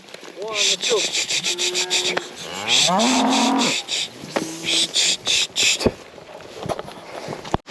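Several cows moo in drawn-out, low calls, some overlapping, with a person's voice calling out among them outdoors.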